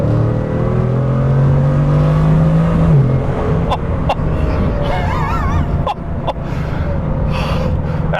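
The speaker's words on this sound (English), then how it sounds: "even just tapping the throttle, you can hear the engine start to do its thing" Bugatti Chiron engine revving on a brief throttle tap, a rising tone in the first few seconds followed by a drone under road noise, with sharp clicks and a short breathy gasp.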